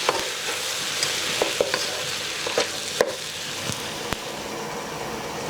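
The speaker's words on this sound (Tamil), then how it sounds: "நல்லா வதங்கட்டும்" Mushrooms sauté in a pan with green chilli, coriander leaves and salt for Chettinad mushroom gravy, giving a steady soft sizzle broken by scattered clicks and scrapes of stirring, close by, with no talk.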